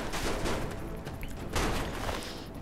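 A nuke grenade detonates in Fallout 3, giving a loud, dense burst of crackling, gunfire-like blasts that surges twice over a few seconds with no voices over it.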